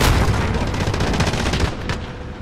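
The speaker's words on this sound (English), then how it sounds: "I shot a guy, dude." Rapid gunfire in a battle royale video game, a dense burst of loud overlapping shots and booms that fade slightly toward the end, with no talk over it.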